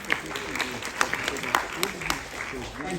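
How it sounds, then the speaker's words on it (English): Audience at a Busch Gardens Tampa media preview applauding, scattered claps and a thin crowd patter sustained for a few seconds, fairly close, with a voice speaking over it. "How about another round of applause for our zoo team?"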